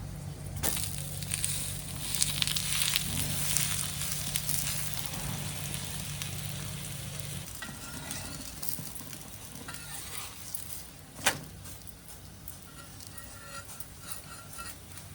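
An adai lentil crepe sizzling on a pan after being flipped, opening with loud stirring and scraping under a steady fry hiss that settles to a quieter sizzle, broken by one sharp clatter near the end.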